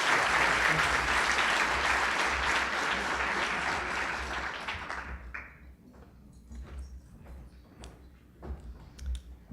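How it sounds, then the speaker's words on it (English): Audience applause for medical students at a white coat ceremony in a hall, a dense sustained wash of clapping that fades out after about five seconds, leaving scattered individual claps. "one round of applause for all of our students"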